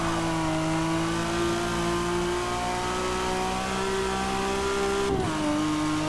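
A BMW M4 with a 7-speed dual-clutch gearbox revs hard on a race track, a loud, steady engine drone that climbs in pitch, then dips sharply at a gear change near the end.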